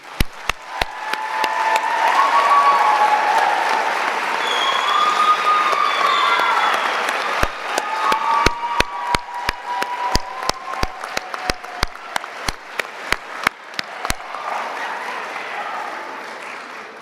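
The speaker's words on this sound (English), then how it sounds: "Graduates, a round of applause," Sustained audience applause fills a graduation convocation ceremony hall, a dense wash of clapping with crowd murmur, followed by a stretch of sparser, sharper individual claps toward the end.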